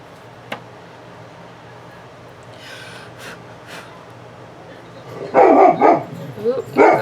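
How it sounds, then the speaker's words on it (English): Pet dog named Presley barking indoors, a short burst of loud, close barks and yips near the end after a quiet stretch. "here goes the dog barking"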